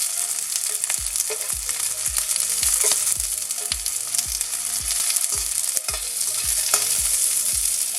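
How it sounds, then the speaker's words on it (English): Onion frying over medium heat in a pan for okra bhaji, a loud close sizzle punctuated by regular thudding stirs and scrapes about every half second, with no voices. "I'm just gonna give that about 2 minutes to just fry out this onion"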